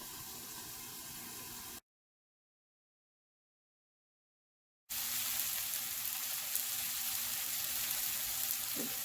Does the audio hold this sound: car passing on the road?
no